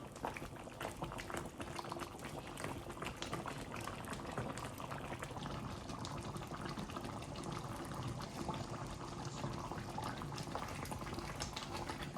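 Chicken curry gravy with onions bubbling in a pot, a continuous dense boiling and bubbling that stays steady and close from start to finish, without talk.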